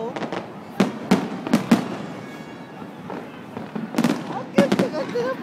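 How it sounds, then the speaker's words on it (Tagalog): Fireworks at a New Year celebration at JBR crack and boom in irregular bursts, some near and sharp, some distant, while people chatter and call out in between. "Ang ganda ng fireworks"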